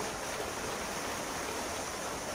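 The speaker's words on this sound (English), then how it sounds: "If I turn the engine off, we've got that sound of running water." Ambient running water in the Farming Simulator 19 console game, heard with the tractor engine switched off: a soft, steady rushing wash like a stream, faint and unbroken, with no talking over it.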